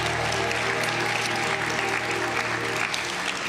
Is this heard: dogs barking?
no